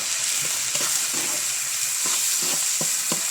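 Tomatoes go into ground pork and radish sautéing in a pan, giving a dense, steady sizzle up close, with soft stirring knocks from a utensil at irregular intervals.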